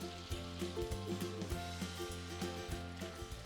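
Spiced chicken and aromatic paste cooking in melted butter for Indian-style butter chicken, a faint steady sizzle with soft stirring knocks throughout, no talk.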